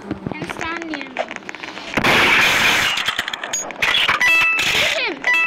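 A sharp gunshot bursts out in the Roblox game Murder Mystery 2 amid in-game effects, with players talking before and around it.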